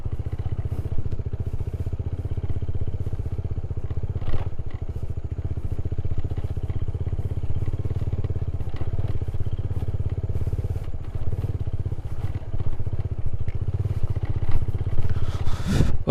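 A Suzuki Satria FU motorcycle rides off-road at dusk, its engine a steady low drone up close, with scattered clatter and thumps from the rough ground and wind rushing toward the end.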